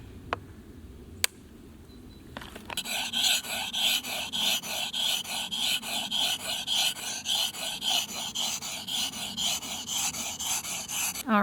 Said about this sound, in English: So now I continue sharpening.